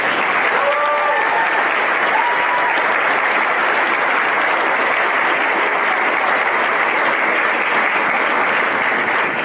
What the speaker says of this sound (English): So they really, really deserve another round of applause.